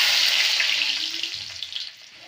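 Garlic tempering tossed into hot oil in a wok sizzles with a bright, steady frying hiss that fades slightly over a couple of seconds, close and alone with no talking.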